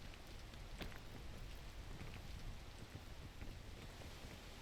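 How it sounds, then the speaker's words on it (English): Steady rain falling in the video game PEAK, a dense continuous hiss with a soft low rumble, with no talk over it. "Oh, now it's raining."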